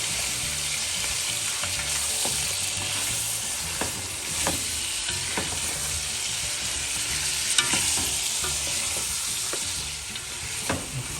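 About 1.5 kg of beef sizzling loudly in a pot for arvi gosht, with continuous frying crackle and repeated scraping stirs throughout, no voices.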